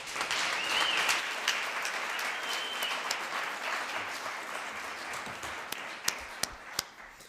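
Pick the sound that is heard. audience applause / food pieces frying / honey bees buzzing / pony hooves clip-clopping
audience applause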